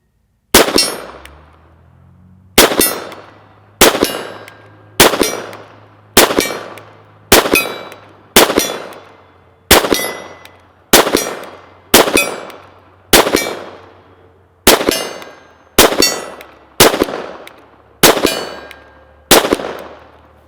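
A Taurus TX22 pistol fires about fifteen evenly spaced shots at targets roughly 42 yards away. Each loud crack is followed by a ringing decay that fits steel being hit.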